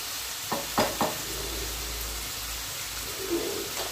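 Vegetables fry in oil in a pan with a steady, close sizzle and a few sharp clinks of stirring early on, with no talking.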